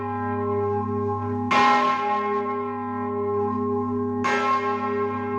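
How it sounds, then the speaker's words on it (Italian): Church bells of the Torre Civica in Bassano ringing together with churches across the province of Vicenza in memory of Covid victims, two loud strikes about three seconds apart over a sustained, deep humming resonance. "le campane della Torre Civica di Bassano che suonano contemporaneamente a quelle di tutte le chiese della provincia di Vicenza"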